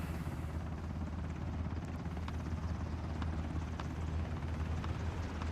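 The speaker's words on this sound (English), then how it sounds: "Heli's here, ladder's down." Helicopter in the video game PUBG during an esports qualifier match, its rotor throbbing as a steady low, close drone with a few faint sharp clicks layered on top.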